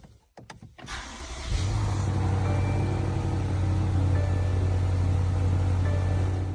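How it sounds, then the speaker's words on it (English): A 2019 BMW M550i engine starts after the car is raised on ramps: a short starter crank, a sharp catch, then a loud steady idle rumble settling in close by. "I'm just gonna start the car, and I'm gonna back it off the ramps"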